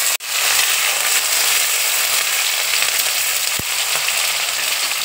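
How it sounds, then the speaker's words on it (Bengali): Chopped onion and dried red chillies fry in hot oil, a loud, dense, continuous sizzle that starts abruptly as they hit the pan and keeps hissing steadily up close. "এবার আমি পেঁয়াজ কুচি দেখো দিয়ে দিচ্ছি।"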